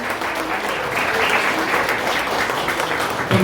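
Steady audience applause fills a club happy-hour gathering, a dense, even wash of clapping from a room full of people that holds at a constant level throughout.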